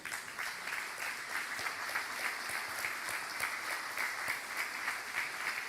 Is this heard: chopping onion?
no